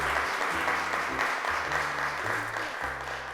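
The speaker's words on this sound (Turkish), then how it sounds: "Şimdi arkadaşımız Elif'i de alkışlarla çağırıyorum" A studio audience on a children's television show claps steadily at moderate volume, with a low tonal music bed running underneath the applause.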